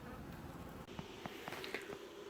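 Honey bees buzzing around an open hive during a November inspection, a steady near drone with brief louder passes as single bees fly close to the microphone.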